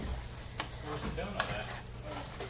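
Spanish-style cauliflower rice sizzles gently in a frying pan while it is mixed, with a few soft utensil taps and scrapes over a steady low hum, close but quiet.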